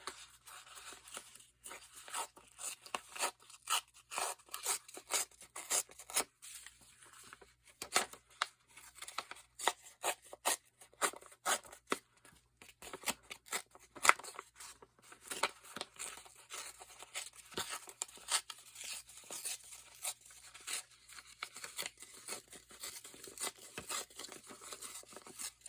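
Paper being cut for a DT project, a faint, busy run of small snips, crinkles and rustles continuing without pause, close by and with no talking.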